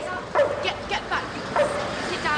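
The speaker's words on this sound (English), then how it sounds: "We have a dangerous dog right outside the ED." A dangerous dog outside a hospital emergency department gives several short, strained barks and yelps in bursts, fairly close, mixed with shouting voices.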